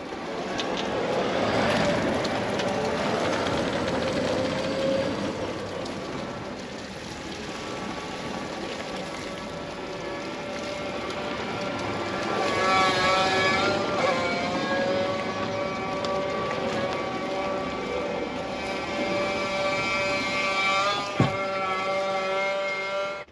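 A Merlo e-Worker fully electric telehandler drives and spins in a tight turn on a farm, giving a steady whirring drone with rising and falling electric motor whine and a brief knock near the end.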